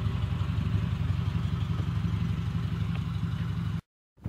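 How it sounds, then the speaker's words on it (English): A running car engine is heard close by as a steady low rumble with light clatter, cutting out briefly to silence near the end. "That car is running."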